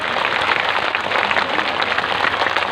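A crowd at a Bhagavad Gita tableau gathering in Budhora village, Nepal, claps in a dense, steady patter that sounds close and fills the whole short stretch without any pause.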